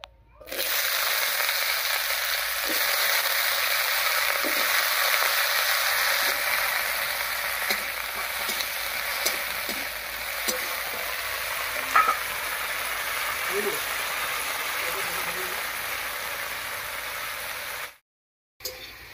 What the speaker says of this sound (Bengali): এই তেলের মধ্যে দিয়ে দিচ্ছি কেটে রাখা আলু